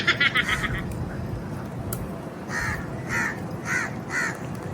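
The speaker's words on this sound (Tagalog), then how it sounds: "Maraming ibon." Crows cawing in Singapore: a quick burst of calls at first, then four separate harsh caws spaced evenly, moderately close over outdoor background noise.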